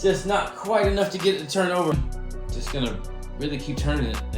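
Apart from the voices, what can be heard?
None of the usual background noises is heard.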